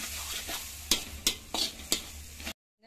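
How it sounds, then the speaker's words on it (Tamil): Egg and mixed vegetables fry in a pan for chicken string hopper kottu, with a continuous close sizzle broken by four sharp scrape-and-clatter stirring strokes before the sound cuts off abruptly. "இந்த முட்டை நல்லா பொறிஞ்சு வரட்டுக்கும்"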